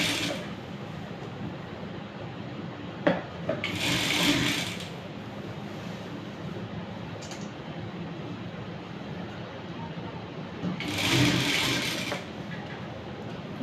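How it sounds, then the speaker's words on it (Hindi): Domestic sewing machine stitching Patiala salwar fabric, two short bursts of rapid mechanical whirring separated by a quiet room with faint clicks, close to the listener. "जहाँ तक हमारा कट आ रहा है वहाँ तक मैं इसको स्टिच कर लूँगी"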